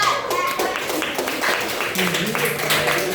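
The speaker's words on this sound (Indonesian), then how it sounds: "Beri tepuk tangan untuk kelompok 4" Students clapping for a presenting group in a school guidance class, a scattered patter of hands mixed with voices and classroom chatter throughout.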